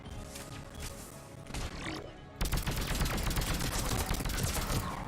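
Rapid, dense weapon gunfire from Mass Effect 3, starting quieter then breaking into a loud, sustained barrage of overlapping shots for the last half, close and heavy.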